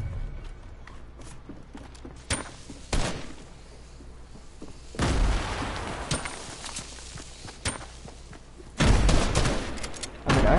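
Scattered Fortnite gunfire, a few sharp bursts and single shots at moderate distance among quieter footstep-like sounds, with the loudest volleys near the start, middle and end.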